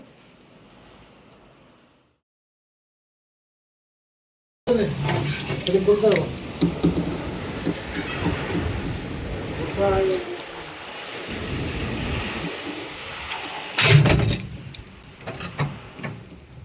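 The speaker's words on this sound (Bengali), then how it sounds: "হঠাৎ করে অনেক জোরে বৃষ্টি উঠিয়েছে, অনেক জোরে বাতাস দিচ্ছে" Heavy rain driven by strong wind in Kharagpur roars in loudly after a few seconds of near silence, a dense, steady wash of downpour and gusts with a person talking over it.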